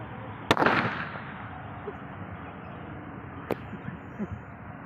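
A ring-shaped self-defence gun for women's safety is fired during a student demonstration, giving two sharp cracks about three seconds apart over a steady background hum, the first louder and followed by a short rumbling tail.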